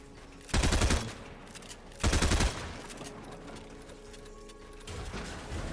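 Fortnite gunfire in a zone wars match comes as two loud, rapid bursts close together, then a quieter hum and a third burst starting near the end.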